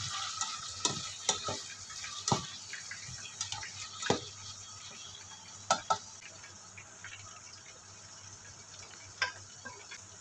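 Pork meatball mixture being stirred and mixed with soy sauce, soft irregular clicks and wet squishing taps of utensil against bowl, fairly quiet and close with brief sharp knocks among gentle mixing noise.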